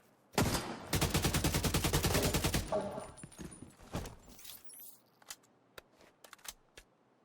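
Gunfire in The Division 2 video game: a loud, dense burst of rapid automatic fire runs for about two seconds, then trails off into a handful of scattered single shots.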